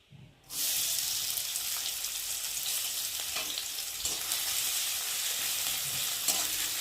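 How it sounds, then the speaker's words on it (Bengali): Onion is dropped into hot white oil in a wok for a momo chutney and sets off a sudden loud sizzle after a quiet start. The steady, hissing fry then continues close by, with a few faint stirring knocks and no talk. "তো প্রথমে আমি সাদা তেল দিলাম, তেলটা দেখো গরম হয়ে এসেছে। আর এখন আমি দিয়ে দেবো পেঁয়াজ"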